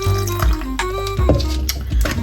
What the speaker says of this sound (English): You're just going to pour that into your sourdough starter and then just mix and combine everything